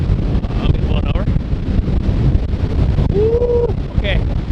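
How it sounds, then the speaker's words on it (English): Strong wind roars and buffets the microphone at a lookout above a massive Icelandic waterfall, a continuous loud rush with brief whistling tones riding over it. "it's way too freaking windy"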